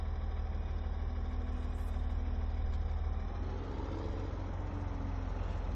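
A truck engine idles in the Farming Simulator 17 video game, a steady low, throaty rumble held at an even, moderate level throughout.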